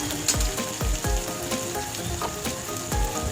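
Chopped ginger and garlic frying in mustard oil for a lotte fish dish, a close crackling sizzle punctuated by repeated sharp spatters and spoon-on-pan knocks roughly every half second.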